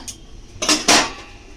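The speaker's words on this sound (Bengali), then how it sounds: "হাফ চামচ হলুদ দিয়েছি নেড়ে দেবো মিশিয়ে নেবে জলের সঙ্গে ভালোভাবে নুন আর হলুদটা" A spoon stirs half a teaspoon of turmeric and salt into water in a pan while cooking cabbage, giving two short, loud metallic scrapes and clinks close by. No one speaks.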